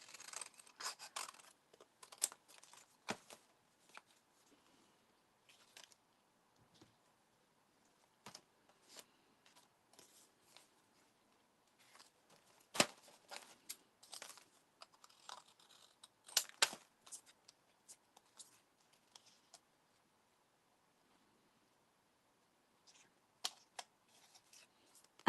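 Scissors snip through paper for a collage, giving scattered, quiet crisp cuts and rustles in irregular bursts separated by stretches of near silence.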